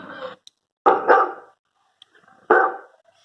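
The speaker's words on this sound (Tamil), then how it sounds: "நாய் கத்துது." A dog barks three short, sharp times at close range, with brief silent gaps between the barks and no other sound around them.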